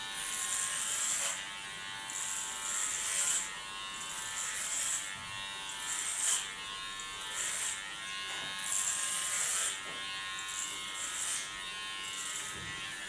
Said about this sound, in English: Go as fast as the clipper can handle.